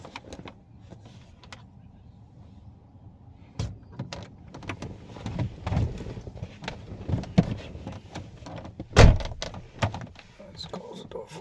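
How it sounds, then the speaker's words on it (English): A Crown Victoria's door slams shut with one loud, sharp thunk near the end, preceded by softer handling knocks and rustling on the car interior. "Let's close the door for a minute."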